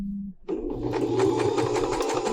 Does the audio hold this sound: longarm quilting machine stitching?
yes